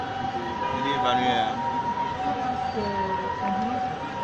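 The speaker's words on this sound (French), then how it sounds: "Oui, ambulance." An ambulance siren wails at a distance in a city street in Cotonou, its rising and falling tones fairly faint under ambient street noise and background chatter.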